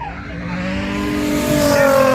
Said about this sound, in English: Flicks out the gear, lights up the rear tyres, showers the pit lane in tyre smoke.